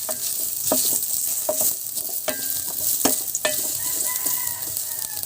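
Sliced ginger sizzles in a little cooking oil, a close steady hiss of frying with several sharp scrapes and taps of a utensil stirring the pan, and a faint rooster crowing far off in the background.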